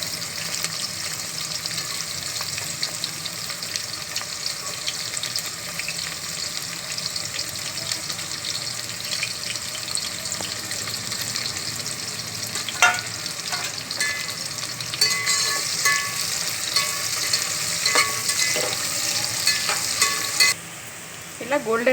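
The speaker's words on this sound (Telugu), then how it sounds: "ఇప్పుడు ఆనియన్స్ వేసుకోవాలి. గోల్డెన్ బ్రౌన్ వచ్చేదాకా వేయించుకుంటే" Onions frying in a pan for chicken Hyderabadi biryani until golden brown: a loud, steady, close sizzle runs throughout, joined in the second half by scraping stirring sounds and occasional clinks.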